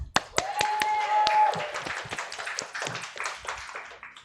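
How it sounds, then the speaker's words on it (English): Scattered hand clapping from a small audience at a Korean and English bilingual poetry reading, sharp individual claps with a brief tonal ring early on, thinning gradually. "Please give a round of applause for our first duo."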